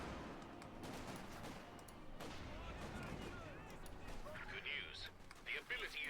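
MG42 machine gun fire in Company of Heroes 2, distant and fairly faint bursts under a commentator talking, with a brighter burst of shots toward the end.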